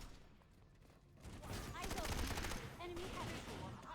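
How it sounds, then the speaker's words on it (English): Grenade blasts and rattling gunfire from a video game match rumble in a dense fusillade, low bursts with crackling shots, under a commentator's voice talking over the action. "Everybody's throwing grenades."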